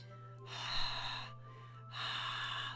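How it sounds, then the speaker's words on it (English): Two sharp, hissing inhales drawn through the teeth, each lasting about a second with a pause between, heard close over a steady low hum in the Doki Doki Literature Club video game. "It sounds like breathing. A sharp inhale like someone is sucking the air through their teeth."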